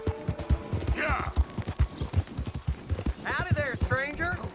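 Horse hooves clip-clop at a steady trotting rhythm in the Western open-world game Red Dead Redemption 2, close and distinct, with people talking over the hoofbeats throughout.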